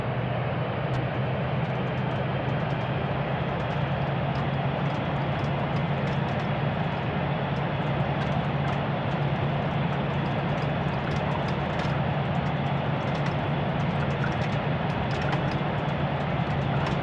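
A Philippine Airlines airliner on its takeoff roll on runway 24, a steady, loud, unbroken engine roar with broadband rumble that holds at a constant level throughout.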